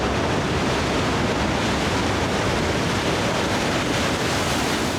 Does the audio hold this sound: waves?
yes